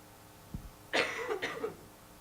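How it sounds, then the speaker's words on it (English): A single muffled cough, close and fairly soft, preceded by a faint knock in an otherwise quiet room. "Trying really hard not to cough."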